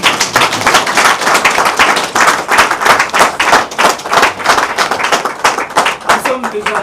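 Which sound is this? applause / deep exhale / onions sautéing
applause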